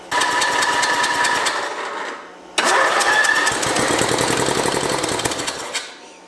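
A Craftsman lawn mower engine sputters to life twice, each time running roughly with loud, rapid mechanical chatter for a couple of seconds before dying away, with a brief gap between the two bursts.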